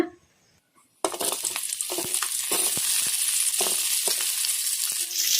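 Chopped onions dropped into hot oil in a kadai, bursting into a loud, steady sizzle after a brief quiet moment, with some stirring clatter underneath.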